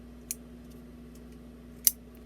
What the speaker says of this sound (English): Take a few minutes to cut excess fabric